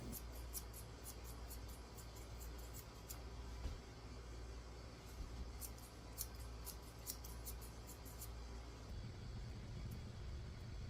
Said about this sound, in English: I'm using my curved chunkers to trim up his legs.